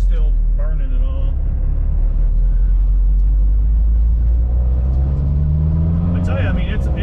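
A car with a 2.4 engine swap idles and runs steadily to warm the header and burn off residual oil, a loud continuous low rumble throughout with a voice talking over it.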